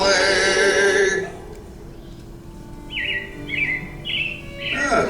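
Robin chirps inside Disney's Carousel of Progress at Magic Kingdom, Walt Disney World: a few short bright tweets in separate bursts, moderately close, after music fades, over a quiet background.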